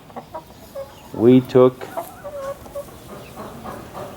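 Backyard chickens, including a red rooster and a Plymouth Rock, cluck nearby in a few short bursts and one louder squawk, with a voice briefly speaking over them.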